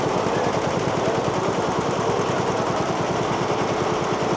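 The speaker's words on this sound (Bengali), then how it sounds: "এটা টিপসন ব্র্যান্ডের মেশিন" Tipson brand embroidery machine running on the floor of a textile fair in Bangladesh, a fast steady mechanical rattle of rapid needle strikes repeating evenly throughout, with fair noise in the background.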